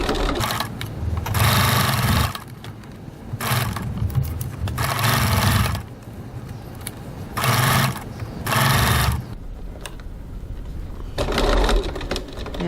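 Sewing machine stitching a crossbody bag seam at 1 cm width, running in repeated bursts of rapid whirring separated by short pauses, close and clear with no talking.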